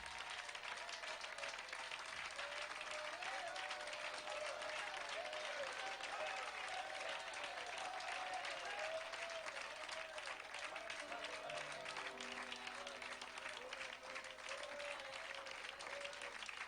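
Congregation at a church service applauding, a long even wash of clapping and crowd noise at low level, with a voice talking faintly underneath.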